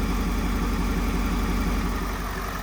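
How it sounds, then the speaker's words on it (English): A 2023 Ford F350 6.7 diesel fitted with a Sinister Diesel cold air intake idles close by, a steady rumbling engine drone with a broad airy rush of intake air over it, continuous and even. "You can actually hear the air being sucked in now."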